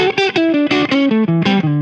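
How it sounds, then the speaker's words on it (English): Electric guitar through a Boss DS-1 distortion pedal, with the guitar volume turned down so its treble bleed engages, plays a short descending run of notes, bright and buzzy, loud and alone without any voices. "You can hear the treble bleed engaging."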